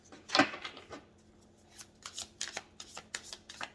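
Tarot cards are shuffled close up, starting with one loud riffle burst followed by a run of quick, lighter papery flicks and taps as the deck is mixed, with no voices.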